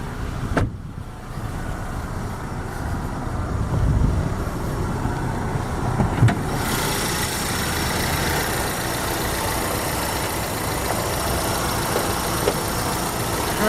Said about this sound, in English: Engine just purring away like brand new